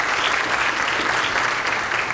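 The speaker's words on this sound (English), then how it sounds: "I hope that you can all give them a round of applause because they deserve it" Symposium attendees applaud a medical educational sponsor, a continuous even wash of many hands clapping at moderate volume with no voices over it.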